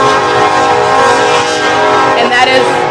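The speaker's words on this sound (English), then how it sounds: "All they did was go forward with the train and go right back the opposite direction" A train pacing forward and back along railroad tracks, heard as a loud, steady rumbling drone with sustained tonal hum, continuous for three seconds with a brief swell near the end.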